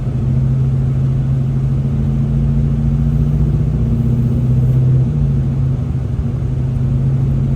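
SN95 Ford Mustang engine running steadily under load while climbing a snowy hill, a loud continuous low rumble with a sustained droning tone and a slight pitch shift partway through, no talk.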